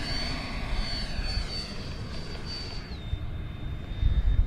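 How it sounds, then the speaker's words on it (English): A Dragon Hobby HSD 90mm Viper RC model jet with a ducted fan passes in flight, its loud steady whine sliding down in pitch as it flies by, heard alone with no talk. "Just really impressed with how this airplane flies."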